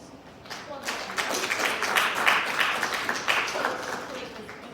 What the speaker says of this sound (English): Let's give a round of applause for this